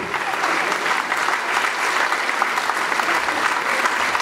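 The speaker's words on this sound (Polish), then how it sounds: "Klaskują artystów i Leszka Aleksandra" Audience applause for the performers at a concert; dense, steady clapping from a large crowd, loud and continuous for the whole span.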